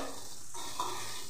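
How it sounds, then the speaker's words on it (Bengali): Okra fries with garam masala in a pan: a close, continuous sizzle with a brief scrape of stirring partway through. "গরম মশলা দিয়ে যদি ঢেঁড়স ভাজেন দেখবেন খেতে এত সুন্দর হবে"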